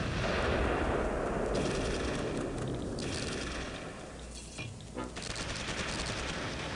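Dense gunfire rattles through a Close Combat: Cross of Iron battle, mixing rapid machine-gun bursts with heavier distant shots and booms. It fades slightly, then picks back up as continuous firing with no one talking.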